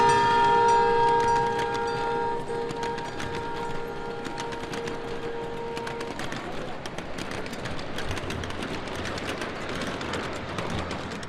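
A small gauge train, an NS Wabash heritage unit, rumbles steadily along the tracks with a sustained horn-like tone at first, then continuous mechanical clatter and rolling noise.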